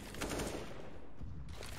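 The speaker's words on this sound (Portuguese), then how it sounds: "Bisquela leva muito tiro do Messi lá do outro lado" Rapid gunfire rattles in a Counter-Strike match on the Inferno map between G2 and Fnatic at IEM Katowice 2022, a dense, continuous burst of shots that is faint overall and plays without talk.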